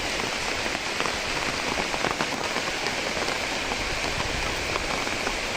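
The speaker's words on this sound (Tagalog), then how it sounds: "So yun guys, umulan. Yun, umulan no." Steady rain falling outdoors and pattering on surfaces, a loud, even hiss of drops with no pauses and no talking.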